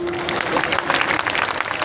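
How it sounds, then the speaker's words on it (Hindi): An audience at a Hindi comic poetry gathering at a 2024 Diwali fair applauds after a poem, with dense, steady clapping from a crowd throughout. "कविता खत्म, ताली बजाइए।"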